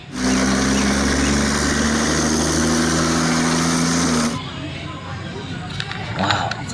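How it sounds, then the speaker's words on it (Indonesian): A toy armored tank runs with a steady whirring motor drone for about four seconds, then cuts off to quieter handling noise. "Keren. Ini ada tank baja."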